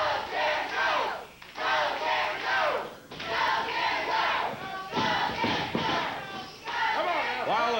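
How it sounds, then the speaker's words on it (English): Wrestling crowd at a Jerry Lawler versus Jeff Jarrett USWA title match chants in loud, rhythmic bursts, several swells of massed voices separated by brief dips, filling the arena. "Go, Jerry, go, says the crowd."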